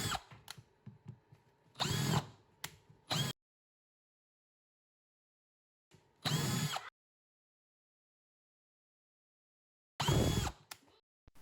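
A power drill cutting with a mandrel hole saw whines in several separate bursts, a cluster of short runs at first, then two longer spins separated by silence.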